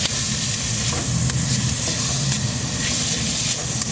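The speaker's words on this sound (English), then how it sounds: "To this, add in your minced meat." Minced meat frying in a pan with vegetables and bacon, a steady loud sizzle and hiss that holds constant throughout with faint stirring scrapes.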